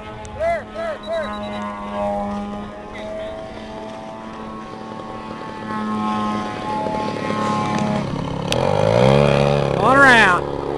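A propeller aircraft coming in to land, its engine drone wavering in pitch, then swelling louder near the end as it passes close. People talk over the sound throughout.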